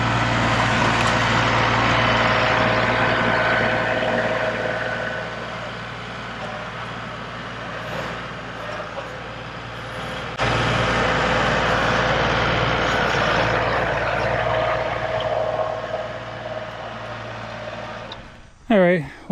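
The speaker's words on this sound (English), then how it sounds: "I could probably do this all with the tractor" A tractor engine runs steadily up close while grading dirt, a broad, loud drone with a low hum that dips and returns midway before cutting out near the end.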